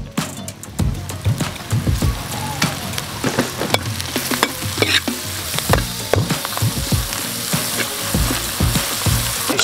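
Onion and pepper sizzle loudly in a pan with oil while being stirred, producing an ongoing crackling fry punctuated by frequent scraping and clattering of the utensil against the pan.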